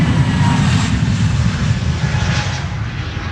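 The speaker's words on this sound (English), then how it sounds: "TAP Air Portugal on its way to Lisbon. Flight 668, A321neo." An Airbus A321neo of TAP Air Portugal departs for Lisbon on a windy day at Amsterdam Schiphol's Polderbaan runway, its engines a loud, steady broadband roar with heavy low rumble that holds for the whole stretch.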